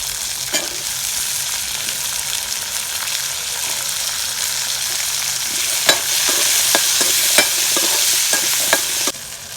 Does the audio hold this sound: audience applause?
no